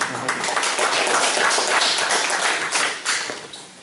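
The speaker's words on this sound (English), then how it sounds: "A round of applause for Robin, please." Audience at a London conference on justice for the Rohingya gives brief, fairly close applause: a dense patter of clapping that swells and then fades out.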